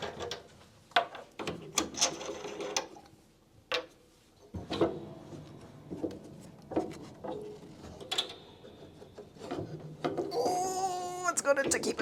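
Action nut bolts on the frame of a Steinway piano are undone to free the piano action, with scattered metallic clicks, ratchety turns and knocks that come in irregular bursts while a person talks nearby.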